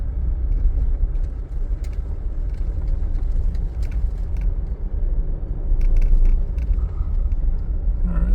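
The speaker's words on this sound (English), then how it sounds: "I just love driving on these roads" A car travels over desert dirt roads in Utah's West Desert near Amasa Valley and Notch Peak, giving a steady, loud low rumble with rattles and small bumps throughout.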